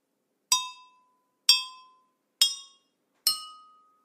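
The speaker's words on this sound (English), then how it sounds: "I'm going to see whether I can get four different musical notes using different amounts of water" Four separate bright glass tones struck one after another at a steady pace on water-filled glasses used as a xylophone, each ringing briefly with a slightly different pitch.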